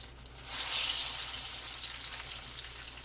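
Apple turnovers fry in a pan of oil, giving a soft continuous sizzle and crackle, fairly quiet and close, with no one speaking.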